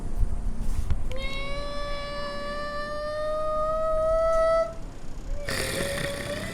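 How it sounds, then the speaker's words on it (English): A cat gives one long, drawn-out meow with a steady, slightly rising pitch, heard outdoors in Busan, South Korea. It lasts a few seconds over street background noise, and no one is talking. "Check out that cat though."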